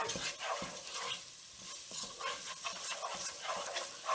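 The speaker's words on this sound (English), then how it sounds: "And just give this another stir." Oregano, tomato and basil spices are stirred into a hot pan of cooking spaghetti squash, with a continuous sizzle and scraping spoon strokes at close range.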